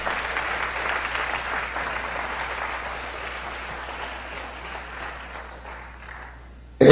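A church congregation applauds together, sustained dense clapping at moderate loudness that gradually thins and softens before a sudden loud sound at the very end.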